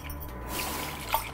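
Water poured or dripping into a bowl while a salad is prepared in a home kitchen, a soft steady trickle with a brief louder splash near the end, close by and alone.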